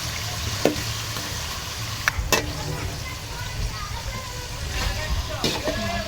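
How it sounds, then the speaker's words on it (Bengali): Fish frying in a pan for a mung dal fish-head dish, a soft continuous sizzle with occasional sharp clinks and scrapes of stirring, fairly quiet and close. "এখন আমি মাছটা কষানোর জন্য 5 মিনিট সময় অপেক্ষা করি।"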